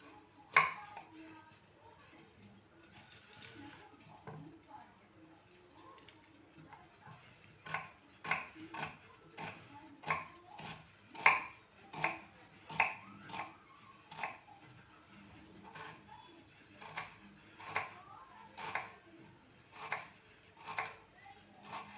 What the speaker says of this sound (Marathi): आणि दोन कांदे चिरून घेऊया बारीक